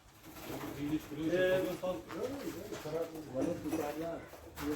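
Several play pigeons coo in soft, throaty repeated phrases close by at a pigeon auction, overlapping one another, with a low background murmur.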